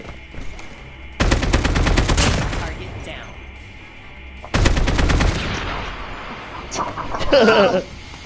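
Two long bursts of rapid automatic gunfire from Call of Duty Mobile, close and loud, separated by quieter game ambience, with brief shots and effects near the end under a player's voice.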